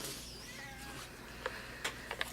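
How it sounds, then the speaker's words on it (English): A whiny cat just woken from a nap meows in short, thin cries, at first faint and distant, then sharper and louder in quick bursts near the end. "if you can hear, I have a whiny cat that just woke up from her nap"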